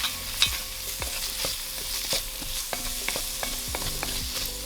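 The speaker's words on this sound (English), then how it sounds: "we're gonna go ahead and add our minced garlic in." Minced garlic stirred into translucent onions in a hot pan for a rabbit chili, steady sizzling frying with repeated scraping stir strokes, close and continuous without speech.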